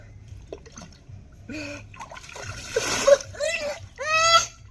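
A child sits down in outdoor water, making a few light splashes and trickles, close by, mixed with a voice and brief high-pitched vocal sounds.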